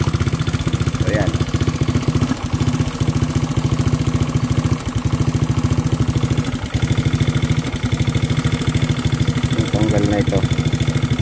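Honda Click scooter with an engine issue restarting and settling into a rapid, steady idle with a faintly knocking putter, close and continuous, while someone speaks briefly over it.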